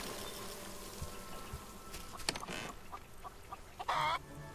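A chicken in the video game Solarpunk gives several short, quiet clucks, with a brighter squawk near the end, over soft game ambience.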